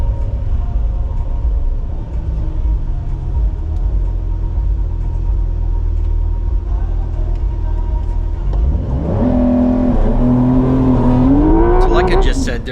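A Porsche 911 GTS on an autocross course, a loud steady engine drone that climbs in pitch as it accelerates near the end, heard up close.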